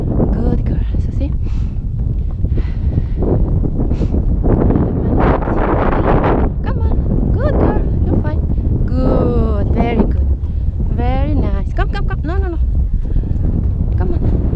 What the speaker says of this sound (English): Oh, the wind is blowing.